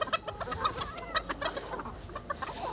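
Several roosters and hens cluck and call in a farm poultry yard, a busy chorus of repeated short clucks close by with no talk.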